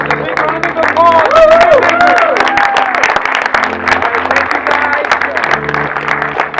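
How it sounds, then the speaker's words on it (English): Audience applause at a film festival screening rises quickly into a loud burst of clapping and cheering, mixed with voices and tonal sounds, then carries on at a steady level before easing slightly near the end. "All right, guys, a big round of applause."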